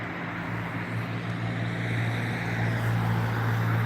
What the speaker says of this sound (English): Another plane gonna come in now for you.